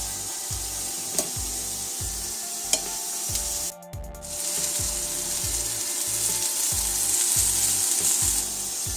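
Mushrooms and onions sizzling in a pan, a continuous close hiss under a regular series of low thumps, with one brief dip in the middle.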